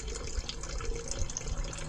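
A hall bathroom toilet tank refills after a flush during a flow test, a quiet steady rush of water with faint gurgling surges, soft and continuous.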